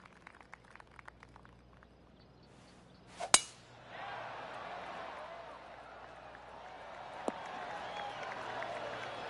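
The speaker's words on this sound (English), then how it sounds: "Oh, golf clap." Polite golf clap from a gallery crowd in the video game PGA Tour 2K23, a short sharp hit followed by a steady spread of soft applause that carries on under quiet commentary.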